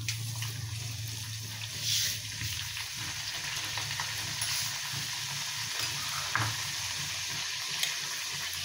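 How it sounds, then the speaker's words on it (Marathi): Puris fry in very hot oil in a continuous bubbling sizzle, faint and steady throughout, with a few soft clinks and no talking. "तेल चांगला गरम झाल्यावर पुरी लवकर लवकर तळली जाते."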